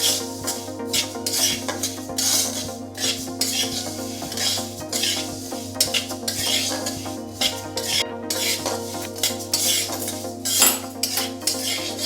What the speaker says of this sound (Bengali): তিলটাকে আমাকে ভালো করে ভেজে নিতে হবে